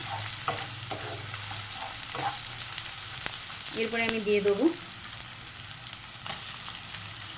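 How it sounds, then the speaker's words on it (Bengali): Ginger and garlic fry in a pan with a steady close sizzle and occasional stirring scrapes while someone speaks briefly over it. "ভালো করে ভাজা হয়ে গেছে আদা আর রসুনটা।"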